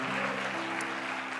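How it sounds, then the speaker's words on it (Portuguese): Applause from a church congregation during a Baptist service, a short steady patter of many hands clapping together, moderately loud and sustained through the moment. "aplauda mais forte, querida"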